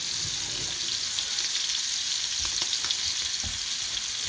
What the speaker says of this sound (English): I got it on full blast because you want to sear the crap out of them.